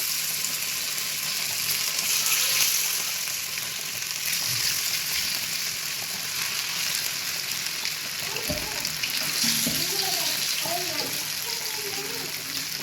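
Masala-coated fish fries in hot oil with a continuous, bubbling sizzle that stays even throughout, and a voice comes in briefly near the end.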